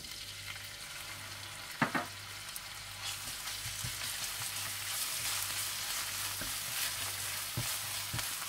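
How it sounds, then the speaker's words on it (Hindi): Crushed garlic and ginger sizzle steadily in hot oil, a close, constant crackle with a couple of sharp clinks from stirring; no one speaks. "इसमें आप कुटा हुआ लहसुन और अदरक डाल दें और इसे हल्का सा लाइट ब्राउन कर लें"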